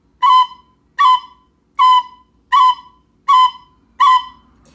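Six short tin whistle notes in a steady rhythm, each with a crisp cut ornament at its attack, played clearly and alone.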